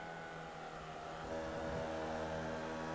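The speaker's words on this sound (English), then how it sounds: "1200cc engine. Sounds nice." Formula Vee car with a 1200cc engine racing at Laguna Seca, a steady buzzing engine note that swells a little louder partway through, with no talk.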